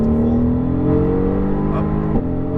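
Mercedes-AMG GT R engine pulling hard on a racetrack, a loud sustained roar whose pitch climbs steadily as the throttle is squeezed open, heard close from inside the car with no talk over it.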